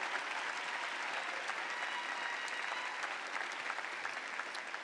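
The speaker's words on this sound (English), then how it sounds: "Let's give Steve and his wife Yolanda a round of applause" Graduate school commencement crowd applauds a new doctorate recipient and his wife, a steady, even wash of many hands clapping, distant and moderately faint, sustained throughout.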